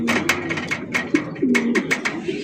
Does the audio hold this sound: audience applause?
no